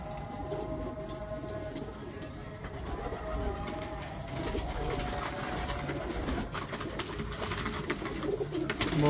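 Pigeons coo softly in repeated low calls, fairly faint against a steady background rumble.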